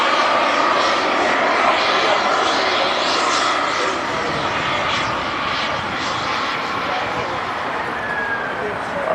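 A jet engine roars on an RC jet airplane during aerobatic flight at an RC jet meet, a continuous loud whoosh that shifts slightly in pitch as it passes.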